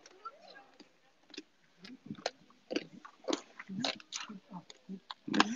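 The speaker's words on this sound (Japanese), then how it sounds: "熊はね、一個一個くるみを割って剥いて食べるなんてことはね、しないね。 バリバリ食べてしまう。" An Ezo brown bear at Asahiyama Zoo in Asahikawa crushes walnuts in its jaws, producing a rapid series of loud, close, crunching and cracking bites, with occasional faint voices nearby.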